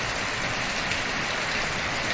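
Steady, even rain hisses throughout, a dense wash of drops with no pauses and no voices.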